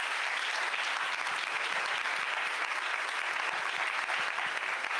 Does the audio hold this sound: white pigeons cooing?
no